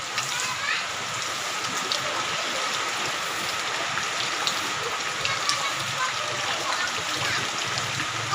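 Heavy rain pours steadily at night as a dense, even hiss of rainfall on surfaces, loud and constant throughout, with a voice faintly under it and no distinct thunder.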